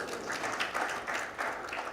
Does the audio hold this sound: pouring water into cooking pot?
no